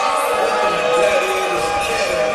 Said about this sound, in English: You hear the crowd reaction for Bustin Justin.